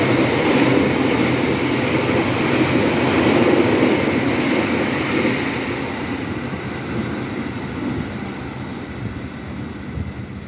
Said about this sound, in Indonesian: waktu kereta api Argo Dwi Pangga melintas di sini